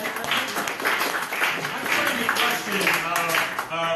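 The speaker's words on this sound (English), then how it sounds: "Give the doctor a round of applause" Improv theater audience claps for a performer playing a doctor, a continuous moderately loud patter of hands with voices mixed in throughout.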